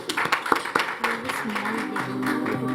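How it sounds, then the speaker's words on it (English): Conference audience clapping for a speaker at an FMCG business conclave, busy overlapping hand claps that come through under a voice which runs over them. "let's give him a round of applause"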